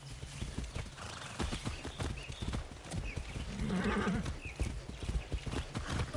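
Horse hooves clip-clopping in the video game Far Cry 6, a steady trotting rhythm of close hoofbeats with a brief whinny midway and light game ambience.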